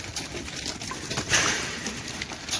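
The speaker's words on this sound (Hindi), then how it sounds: "ये हमारे कबूतर हैं। ये देखें, कबूतर रखे हुए हैं।" Pigeons kept in a backyard coop give soft, low coos under a steady background hiss, with a brief brighter flutter near the middle.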